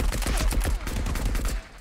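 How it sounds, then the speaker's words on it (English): Rapid automatic gunfire in the space combat shooter Marauders, a dense rattling burst of shots fired in quick succession, loud and continuous for nearly two seconds with no talk over it. "Is that you shooting?"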